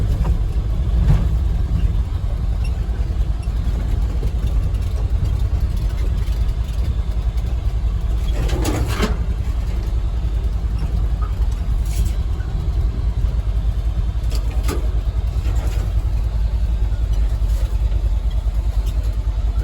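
A 1975 Ford F250 pickup with a 390 engine idles steadily and loudly close by, a deep continuous rumble with a few brief clunks and knocks over the top.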